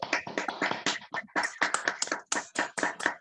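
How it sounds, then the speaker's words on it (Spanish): A crowd claps at the close of a talk on equal marriage, gender identity and legal abortion, with dense overlapping handclaps in bursts that build and fade, close and loud, with no voices. "Bueno, un aplauso. Aplauso."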